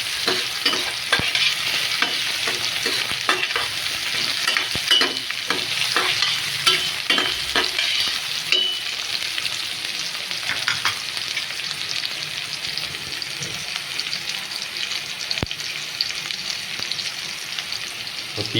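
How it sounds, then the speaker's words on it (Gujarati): Chopped tomatoes frying in oil in a pan for a Kathiawadi dhaba-style gathiya curry, steady hissing sizzle broken by repeated scraping stirs of the spoon, with no talking. "તો 30 સેકન્ડ જેટલા થઈ ગયા છે ટામેટો ઉમેરતા"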